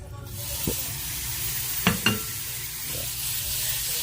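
Plenty of garlic frying in a hot pan of oil for pinakbet sizzles in a constant close hiss, broken by a few sharp utensil taps and scrapes near the middle.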